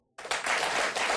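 A short burst of audience applause, many hands clapping at once, loud and fairly close, starting abruptly and holding steady.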